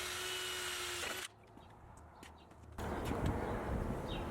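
A power drill boring a hole through a metal garage door panel for a cable clamp, a steady loud whir for about a second, then quieter handling noise before a rougher grinding burst resumes.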